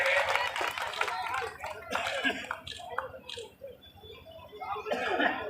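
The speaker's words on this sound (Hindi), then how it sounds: "एक मिनट भाई जोरदार तालियों से सभी का स्वागत करें।" Clapping from a crowd welcoming guests at a civic felicitation and statue groundbreaking ceremony in Rewari, mixed with voices and scattered chuckles, moderately loud and uneven throughout.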